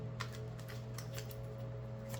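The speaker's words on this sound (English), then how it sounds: "I'm shuffling these cards because I didn't shuffle them out of the box." A deck of cards being shuffled by hand produces repeated short papery riffling bursts, several in quick succession, close up over a steady low electrical hum, with no talking.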